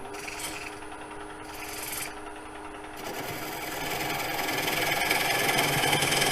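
Skew chisel cutting a spinning rainbow poplar bowl blank on a wood lathe, a steady scraping, rasping hiss over the lathe's hum, growing louder and rougher in the second half, with no talk.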